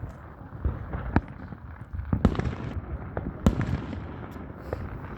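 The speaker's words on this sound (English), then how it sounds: "City fireworks are doing a lot." City fireworks burst in a steady crackling barrage, with several sharper booms standing out over a continuous rumble of distant explosions and no talking.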